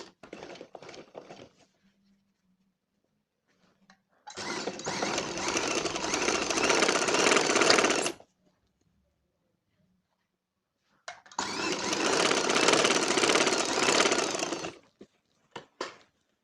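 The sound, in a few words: sewing machine stitching a school coat collar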